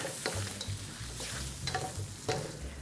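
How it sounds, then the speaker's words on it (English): Garlic shrimp pad see ew noodles tossed in a wok with white pepper: continuous sizzling under repeated scraping and clanking strokes of a spatula, close and fairly loud. "A little bit of white pepper again, and then toss everything together."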